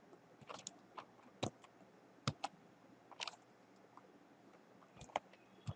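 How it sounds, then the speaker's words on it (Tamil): Keys on a computer keyboard click sparsely as a new password is typed, a few quiet, sharp taps spread out irregularly over a faint background hum. "இந்த இடத்துல நான் என்னோட நியூ பாஸ்வேர்டை நான் டைப் பண்ணுறேன்."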